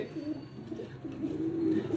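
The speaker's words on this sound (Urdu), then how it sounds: "یہ سلارہ کبوتر ہے" A Salara pigeon coos in low, soft, throaty murmurs that roll on steadily and swell slightly toward the end, with no voices over them.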